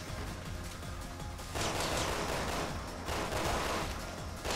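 Gunfire and an explosion in the video game Resident Evil 6 Mercenaries mode, a dense, loud rattle of shots with a burst of blast noise partway through, continuous with no talk.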